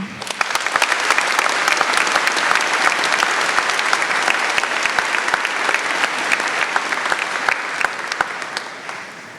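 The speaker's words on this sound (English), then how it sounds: "Now we can applaud." Graduation ceremony crowd at Westminster High School claps for the staff being introduced: loud, sustained applause from many hands, even and unbroken, easing slightly near the end.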